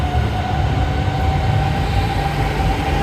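A metro train pulls into a Hanoi station with a loud, steady rumble and a sustained tonal hum, continuous and close, with no speech.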